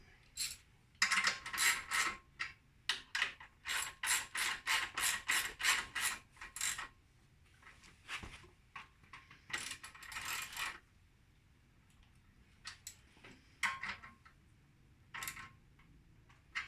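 Bolts being fastened back onto the rear of a Keeway motorcycle with a ratchet wrench: a long run of loud, evenly spaced clicks, then shorter bursts of ratcheting separated by pauses, close to the microphone.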